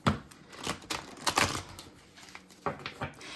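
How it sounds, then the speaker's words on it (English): Tarot cards are shuffled by hand for a reading, making a quiet run of close, rapid papery riffles and clicks in short irregular bursts. "while I shuffle"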